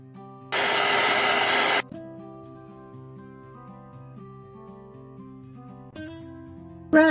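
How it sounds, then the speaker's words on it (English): A heat gun blows hot air over epoxy resin coasters, a loud steady broadband roar that runs for just over a second and then cuts off, leaving faint background tones before a brief burst near the end. "Use my heat gun again, but exactly the same to the coasters"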